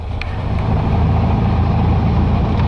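The engine of a 1969 VW Baja on tall tires drones loud and steady during a test drive, with a deep rumble and road noise, and no voices.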